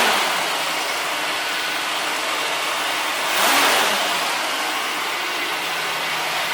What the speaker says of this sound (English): So we'll give it a little bump on the gas.